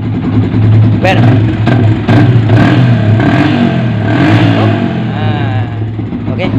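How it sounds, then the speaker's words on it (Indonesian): An old Yamaha Vixion motorcycle engine cranks and fires up, then runs at a steady loud idle with a mechanical clatter, close by, while someone speaks briefly over it. "Sekarang akan kita nyalakan motor ini dengan reaksi ECM yang sudah terpasang."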